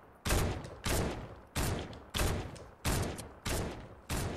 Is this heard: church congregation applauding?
no